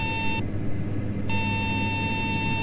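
A continuous electronic cockpit warning tone in a Dash 8 Q400 flight simulator game sounds loudly, breaks off briefly, then resumes steadily over a low engine hum.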